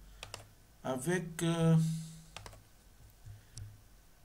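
Computer keyboard keys clatter as Python code is typed, sparse clicks at the start and end, with a French-speaking voice briefly talking in the middle.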